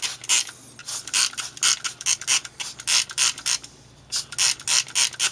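A spray bottle trigger is pumped again and again to rinse silver-plate stripping off a piece, making a quick rhythmic run of close, crisp hissing bursts with one short pause partway through.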